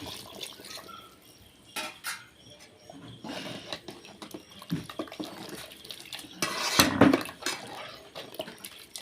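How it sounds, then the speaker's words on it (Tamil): Water splashes and pours in uneven bursts into a pot of raw mango curry, with metallic clinks of cookware between, close by and moderately quiet, no voices. "குழம்புக்கு தேவையான அளவு தண்ணி சேர்த்துக்கலாம்"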